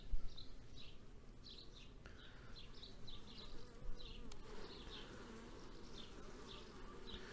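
A dense, steady drone of many Carniolan honey bees buzzing close by at a hive, with occasional higher buzzes of individual bees passing and faint bird chirps in the background.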